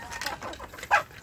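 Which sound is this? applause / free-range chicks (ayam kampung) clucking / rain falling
free-range chicks (ayam kampung) clucking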